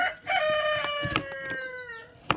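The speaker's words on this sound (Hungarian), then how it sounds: "Hát ezek a kakasok megvannak." Roosters crowing close by in a farmyard, a long drawn-out cock-a-doodle-doo filling most of the clip with a brief cluck near the end and no talk.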